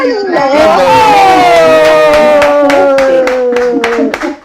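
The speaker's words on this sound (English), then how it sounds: "Everybody in the studio is clapping for you." A studio audience claps in quick, fairly even beats beneath a long, sustained voice that slowly falls in pitch, the applause close and loud before trailing off at the end.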